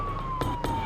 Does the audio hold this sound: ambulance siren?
yes